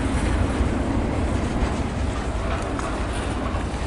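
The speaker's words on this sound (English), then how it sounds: "so as soon as these two trains clear" Trains roll through a rail yard with a steady, broad rumble and faint clatter, continuous and fairly close, with no talking.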